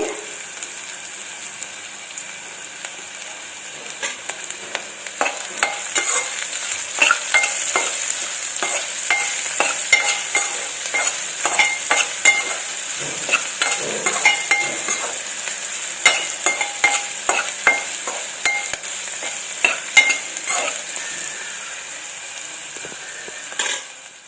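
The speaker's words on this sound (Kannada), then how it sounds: "ಉಪ್ಪು ಹಾಕಿದರೆ ಬೇಗ ಫ್ರೈ ಆಗುತ್ತೆ" Maggi masala rice being stir-fried with salt in a pan, with a continuous sizzle under frequent rhythmic scraping and clanking of a spoon against the pan, close up and alone.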